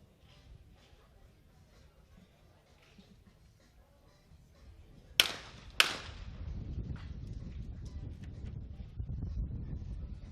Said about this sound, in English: Well, again, pretty strong wind gust there. It's just picked up again.